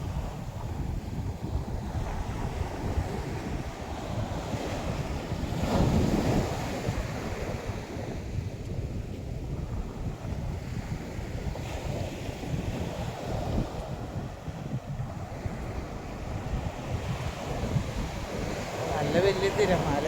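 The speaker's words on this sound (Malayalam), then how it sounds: "നല്ല വലിയ തിരമാലയായിട്ടാണ് വരുന്നത്." Large sea waves rolling in and breaking on a beach shore, a steady broad wash of surf with wind buffeting the microphone throughout, swelling slightly around the middle.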